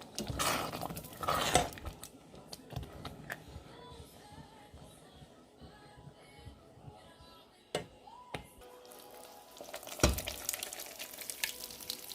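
Beef bolognese sauce being mixed into pasta in a pot, with utensils clinking and scraping against metal, soft stirring sounds and a few sharper knocks.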